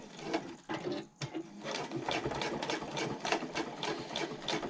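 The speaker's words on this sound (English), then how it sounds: "now we're going to sew this clipped edge at 1/4 inch seam allowance" Sewing machine stitching a 1/4 inch seam along the clipped edge of a handbag zipper placket, a fast rhythmic needle chatter running steadily with a brief pause near the start, close and clear.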